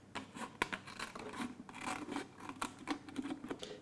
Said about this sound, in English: you can use your scissors just to finish it off